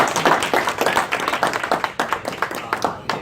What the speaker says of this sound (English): So if we can all just clap our hands, welcome Frank.